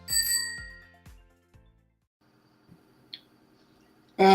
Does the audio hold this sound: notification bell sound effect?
yes